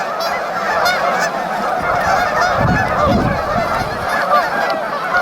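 A sick goose honks beside a tree on an icy river, with loud, dense and continuous calling close by that swells in the middle, heard alone without talk.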